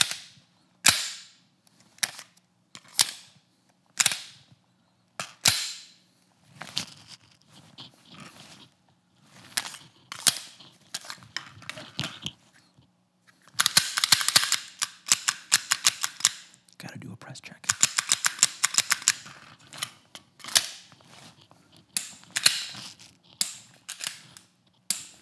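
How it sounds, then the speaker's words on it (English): Springfield Echelon pistol being handled and tapped, with a run of sharp close clicks and taps, some in rapid dense bursts, heard alone without talk. "let's go through some of the sounds from the Springfield Echelon."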